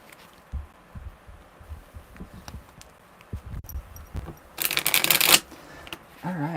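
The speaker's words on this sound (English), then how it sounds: "Alright, that was a really good shuffle." Tarot cards are shuffled by hand in soft irregular riffles and taps, ending in a loud, fast riffle burst before quieter handling resumes.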